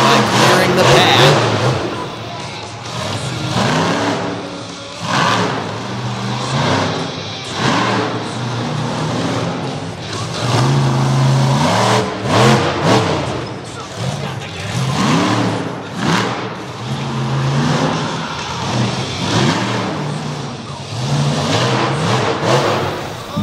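A monster truck engine revs loudly and repeatedly inside a small arena, surging and falling in rhythm under steady commentary and crowd noise.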